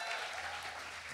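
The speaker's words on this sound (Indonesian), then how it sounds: "lagi tepuk tangannya" An audience at an intimate music show applauds, a short, steady wash of clapping at moderate volume without voices.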